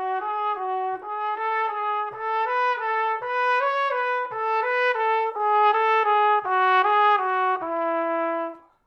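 A trumpet plays a slurred, wavy warm-up scale of wobbling notes rising and falling in short phrases, solo and close, with brief breaths between.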